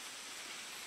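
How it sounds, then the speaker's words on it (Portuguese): A small cascade at Caxambu pours steadily, giving a soft, continuous rushing wash of water with no voices over it. "dá pra escutar o barulho da água?"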